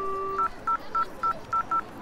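A phone keypad dials a number: a long dial tone gives way to six short, evenly spaced DTMF beeps, clear and close in a quiet room.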